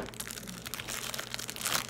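Crinkly plastic packaging of a mochi squishy fidget toy being handled and pulled open, a dense, continuous rustle and crackle up close for about two seconds with no talking.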